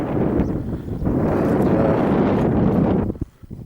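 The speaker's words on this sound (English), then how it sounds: "It's got a bit more breezy here" Wind blusters across a rugged mountain pass below the summit of Stob Binnein near Ben More, a loud, rough, steady buffeting against the microphone that drops away abruptly near the end.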